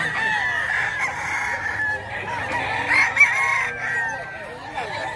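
Fighting roosters at a gamecock yard in Bocaue, Bulacan crow and cluck repeatedly at close range, with people talking nearby.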